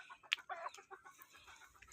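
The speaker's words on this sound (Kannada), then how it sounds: "ನಮ್ಮ ಕೋಳಿಗಳಿಗೆ." Chickens cluck softly while being fed pomegranate, with a few brief, faint clucks and chirps scattered over a quiet background.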